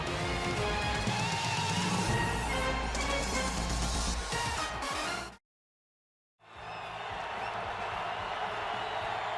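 Raucous football stadium crowd at an NFL game in Glendale, Patriots at Cardinals, a loud continuous roar that cuts to silence for about a second before the broad crowd noise returns.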